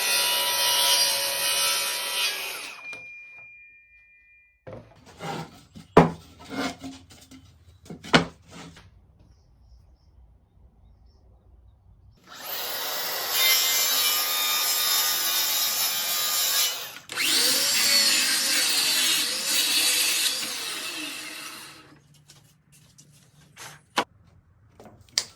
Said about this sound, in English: start sorting through all the offcuts and find any pieces that are useful, and then start cutting them to their finished dimensions